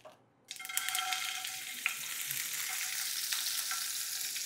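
Mustard seeds hit hot oil for a green moong usal and burst into a loud, steady sizzle and crackle after a brief quiet moment, with sharp pops scattered through the frying.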